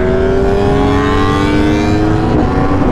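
Yamaha R1 and BMW S1000RR sport motorcycles launch together, their engines roaring loud and steady at high revs with a rising pitch, heard up close.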